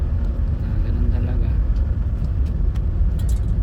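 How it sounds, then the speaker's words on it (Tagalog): Steady low rumble of road traffic with passing vehicles fills the background while a person talks over it. "Traffic."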